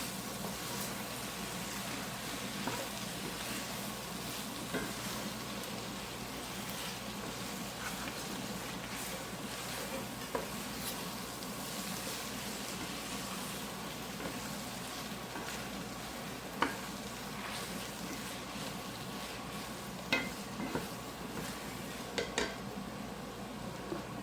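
Egg noodles with cooked egg sizzle steadily in a pan while a utensil stirs and scrapes the bottom, with occasional sharp clinks of metal against the pan over a constant soft frying hiss.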